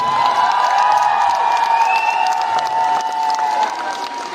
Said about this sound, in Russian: Друзья, эти аплодисменты только для вас.